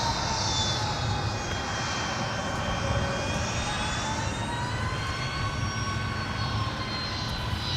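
Airliner jet engines roar steadily during a takeoff climb at MSP Airport, a loud continuous broadband rumble with rising whining tones, heard alone with no talk.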